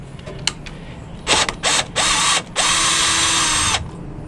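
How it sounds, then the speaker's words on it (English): A ratchet with a 3/8 inch socket loosens a nut on a Suburban RV water heater, heard as several short mechanical whirring bursts followed by one longer run, close and fairly loud. "This is a 3/8 inch socket. Fits right on there perfectly."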